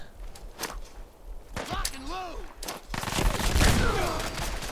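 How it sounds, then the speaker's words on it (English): Gunfire in the video game Fallout 4 during a settlement ambush with turrets, a few sharp shots followed by a denser burst of rapid fire, with a voice speaking over it partway through. "Why did you shoot me, Ada?"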